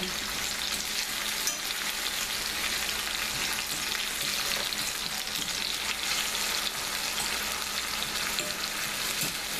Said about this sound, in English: How long you gotta saute the onions and peppers?